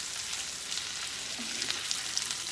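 Skillet potatoes fry with a soft, low sizzle and a few light crackles, fairly faint and steady throughout, no talking.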